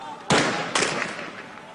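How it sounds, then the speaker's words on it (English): Gunfire in Tripoli, Libya during the 2011 crackdown: two sharp, loud cracks about half a second apart, each trailing off into an echoing decay. "Not far from where he spoke, the sound of gunfire."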